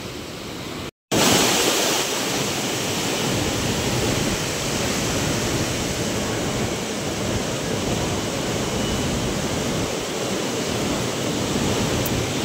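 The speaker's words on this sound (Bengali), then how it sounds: "তো জল ছেড়েছে, দেখো জলটা আসছে, দেখো।" Released water from Sunkesula Dam in Kurnool rushes in a loud, steady roar of broadband turbulence, continuous after a brief dropout at the start, with no talk over it.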